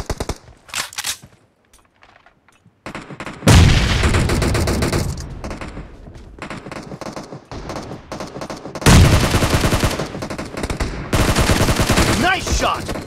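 Rapid automatic gunfire in PUBG, loud sustained bursts of shots in two long volleys after a few scattered single shots near the start.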